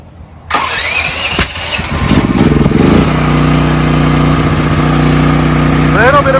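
A brand-new DuroMax XP13000EH dual fuel generator running on propane cranks and catches, then settles into a loud, steady engine drone close by, with a voice briefly heard near the end.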